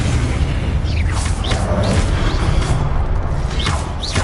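Spell blasts in the Hogwarts Legacy video game, with a low booming rumble and a few whooshing magical zaps sweeping upward, loud and close throughout.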